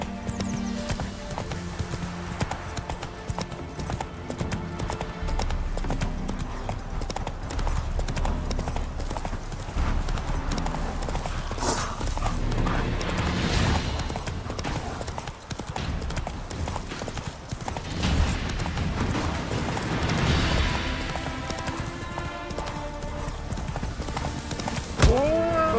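Roach, Geralt's horse in The Witcher 3: Wild Hunt, trots through the city of Novigrad with steady rhythmic clip-clop hoofbeats and an occasional whinny, while voices and game ambience murmur in the background.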